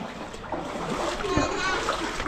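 Rising floodwater splashes and churns in a flooded area during heavy rain, a steady wet wash with a sharper splash near the middle, with a voice faintly audible underneath.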